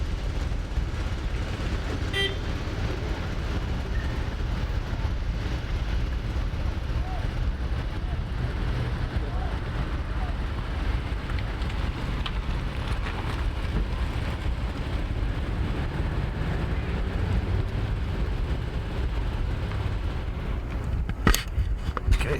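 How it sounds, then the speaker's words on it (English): A car engine idles steadily in the background for a wild sound recording, giving a low, constant rumble with a faint horn-like toot near the start and a few sharp clicks toward the end. "Wild sound, car running."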